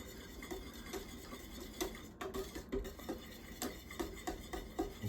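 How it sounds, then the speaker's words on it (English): A whisk beats heavy whipping cream in a bowl for sweet sticky buns, giving a quiet, steady run of light clicking taps against the bowl, close by and with no talking. "we're going to whisk this up"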